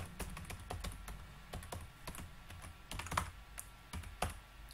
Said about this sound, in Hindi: अब अगर मैं यहां पर कंसोल डॉट लॉग डेटा लिख देता हूं